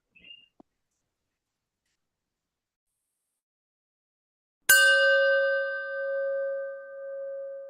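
A chime is struck once after a short tick and a faint high tone, then rings out clearly, its bright metallic tone sustaining and slowly wavering as it decays.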